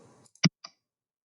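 A couple of sharp computer mouse clicks in Microsoft Word, one crisp main click followed by a lighter one, close and isolated against silence after a trailing bit of sound.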